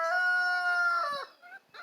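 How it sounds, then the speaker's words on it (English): A rooster crows close by, one long strained cock-a-doodle-doo that trails off, followed by a couple of short clucks. "our new rooster is crowing"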